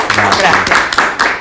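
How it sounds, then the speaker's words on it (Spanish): Applause for guest Graciela Rodríguez in a television studio, lively clapping from the audience running under a speaking voice and fairly loud throughout. "Con este aplauso."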